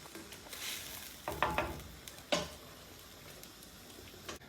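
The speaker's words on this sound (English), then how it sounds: "let's give these a quick stir." A pan of chicken bhuna masala curry is stirred, with soft scraping and a few brief sizzling bursts over a faint background hiss, quiet and close.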